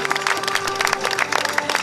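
An audience at the Sipario d'Oro award ceremony in Agrigento applauds, a brief burst of dense, close clapping with a faint voice underneath.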